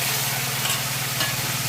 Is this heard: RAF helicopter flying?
no